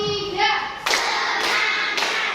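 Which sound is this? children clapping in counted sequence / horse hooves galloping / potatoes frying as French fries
children clapping in counted sequence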